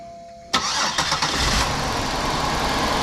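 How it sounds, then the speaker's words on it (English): A 2005 Buick Park Avenue engine cranks and catches, a few quick starter pulses giving way to a steady running rumble, heard up close with no talking. "my lovely assistant will crank up the vehicle just to see if we have spark here"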